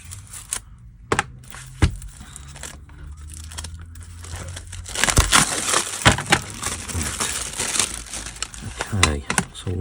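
Cellophane bags of model roller coaster parts are cut open and handled close up, with crisp crinkling and rustling, a few sharp snips and louder crackling plastic, while someone talks intermittently.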